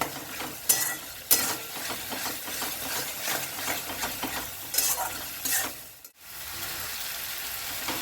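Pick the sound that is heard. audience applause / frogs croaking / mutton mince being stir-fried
mutton mince being stir-fried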